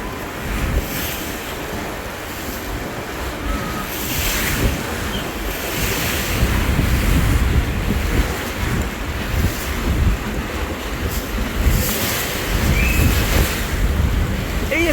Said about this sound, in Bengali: কত চমৎকার ভাবে পানিগুলো কাটতেছে।